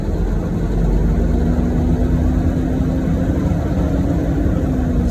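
A truck engine idles to build air brake pressure, producing a loud, steady, low rumbling drone that holds constant throughout, heard up close with no talking.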